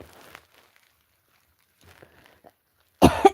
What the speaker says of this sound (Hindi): आपकी बात सोच सोच के मुझे खांसी आ रही है।